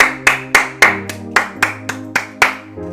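A single pair of hands claps in a steady, brisk rhythm, about ten sharp claps over a sustained low tonal hum.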